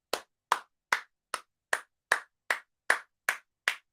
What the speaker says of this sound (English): Clap it up for another lengthy conversation